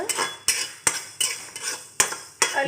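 A spoon scrapes rhythmically against a dry pan as spices, including coriander, are roasted without oil for a Palakkad-style mango curry paste, with about seven crisp, close strokes in quick succession.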